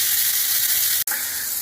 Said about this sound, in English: Just letting that fry for a minute or two to soften the spring onion.